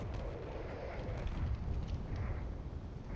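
Autocannon and artillery fire from a ship in the video game Space Engineers, a dense rumbling barrage of low booms and rapid thuds running continuously.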